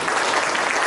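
A congregation claps together during an Easter church service, a brief dense burst of applause filling the room.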